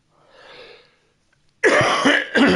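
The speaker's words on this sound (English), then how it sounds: "Still got this cough lingering" A few harsh, loud coughs burst out in quick succession after a quieter stretch of faint breathy sound.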